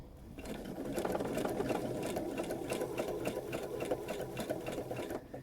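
A sewing machine stitches free-motion embroidery on appliqué fabric, its rapid needle rattling steadily close by and running without pause for several seconds.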